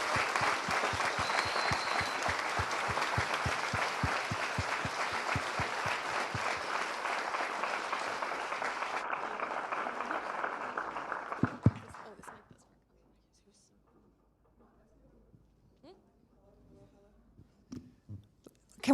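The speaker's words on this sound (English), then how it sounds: "Can we give Ren another round of applause" Audience applause after a talk at a CreativeMornings New York event, a sustained burst of many hands clapping that fades out toward the end, leaving a near-silent room with faint small noises.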